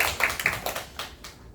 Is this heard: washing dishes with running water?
no